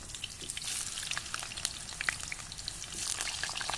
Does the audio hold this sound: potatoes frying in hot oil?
yes